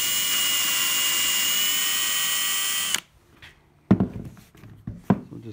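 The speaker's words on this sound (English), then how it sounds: "And drill the holes" Power drill bores holes through a wooden panel for a sailboat nailing-line template, a steady high whine for about three seconds that stops abruptly, followed by a couple of brief clunks and handling knocks.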